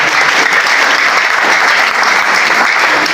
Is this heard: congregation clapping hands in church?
yes